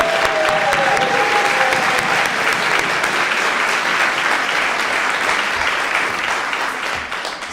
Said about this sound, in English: I would like to, at this time, applaud all the students